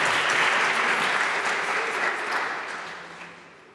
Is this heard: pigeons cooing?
no